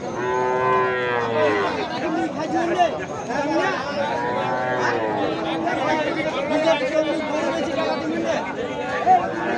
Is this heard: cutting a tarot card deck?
no